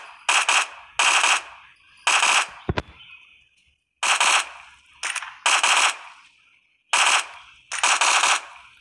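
Bursts of fully automatic fire from an AUG assault rifle being sprayed in PUBG Mobile, about eight loud, sharp volleys of roughly half a second each, separated by short pauses, with one isolated crack partway through.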